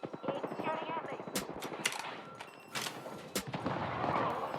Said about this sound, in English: Taking fire, bros.